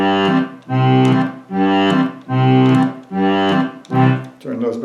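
Solo accordion playing a polka tune with the backing orchestral sounds switched off, rhythmic pulsing chords in short repeated phrases, loud and close with no talking.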